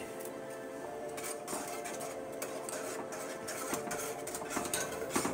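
Alfredo sauce whisked in a pan, a steady close scraping and clinking of whisk against metal with small rhythmic accents, continuous and moderately loud, no voices.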